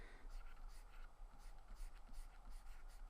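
A pencil shades on paper in quick, soft back-and-forth strokes, a faint close scratching that repeats steadily with no one talking.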